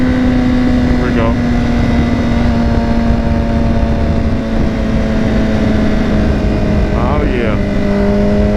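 A motorcycle engine drones steadily on a short test ride, a loud constant hum with wind noise, and a rider briefly speaks over it.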